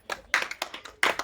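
A small group clapping at a memorial gathering, several uneven, sharp claps in quick succession, close and fairly loud.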